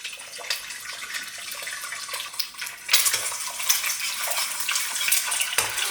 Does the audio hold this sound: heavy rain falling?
no